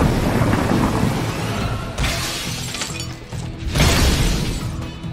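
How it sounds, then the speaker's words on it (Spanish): Lightning storm ability firing in the video game Marvel Puzzle Quest: loud crackling, shattering electric bursts with rumbling low-end, surging twice in quick succession over a dense continuous roar. "A ver, tormenta de rayo."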